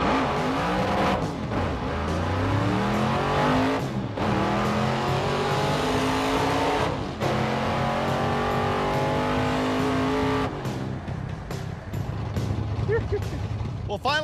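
A drag race car launches down the track at full throttle, its engine roaring and climbing in pitch through several sharp gear shifts as it pulls hard and close over about fourteen seconds.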